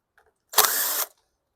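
An impact driver with an 8mm socket backing out a sheet metal screw on a 2014 Murray lawn mower, a single short, close rattling burst of about half a second.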